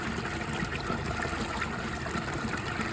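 Water trickles steadily from a makeshift skimmer into a trash can beside a 6,000-gallon koi pond, a continuous even splashing with no breaks.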